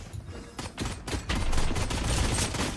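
Rapid bursts of gunfire from the tactical shooter Valorant, dense and continuous across the clip, building louder after the first second with overlapping shots.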